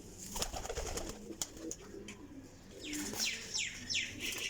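Racing pigeons coo softly in a loft, low throaty coos mixed with brief chirps and a few wing flaps, fairly quiet and close.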